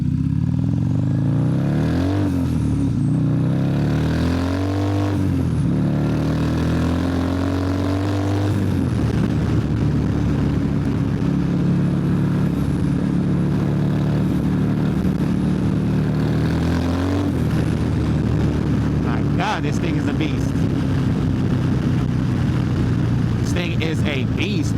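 A turbocharged 135 drives hard down a long wet street, with its engine droning and surging through several rises in pitch and the hiss of tires on wet pavement throughout, while people talk excitedly over it.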